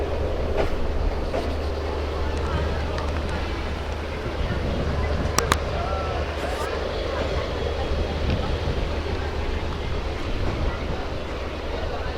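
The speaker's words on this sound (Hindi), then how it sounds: "प्यारा सा कर्व, और ट्रेन बहुत स्लो हो गई यहाँ पर" A passenger train, the Haridwar–Shri Ganganagar Intercity Express, rolls slowly around a curve with a steady, loud rumble of wheels and carriages and occasional sharp metallic clicks and squeals, heard from on board.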